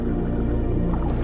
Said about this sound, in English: Dolphins communicate with one another by transmitting and receiving different sounds: squeaks, grunts, moans.